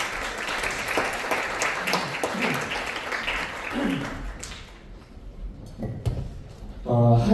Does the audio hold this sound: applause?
yes